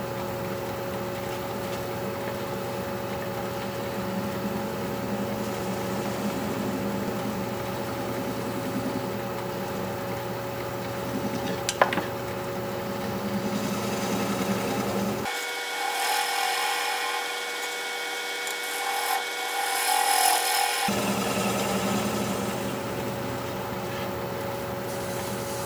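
A wooden mushroom spins on a lathe as it is shaped, a steady whirring rasp of the tool on the wood running throughout, with a brief quieter shift in tone partway through, the speed having been turned down.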